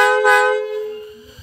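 A single loud horn blast from a Hino AK truck, a rich multi-tone honk that swells briefly and then fades out over about a second, close up with no voices.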